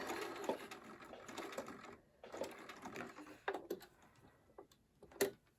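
A sewing machine stitches a fold-over appliqué at slow speed, giving short bursts of quiet rapid needle ticking separated by brief pauses, with a few sharper clicks near the end.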